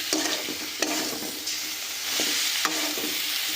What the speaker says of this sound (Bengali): মশলাটা দিয়ে এবার মশলাটাকে খুব ভালো করে ভেজে নেব।